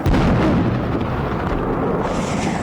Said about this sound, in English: And you can just hear the explosions from those fireworks.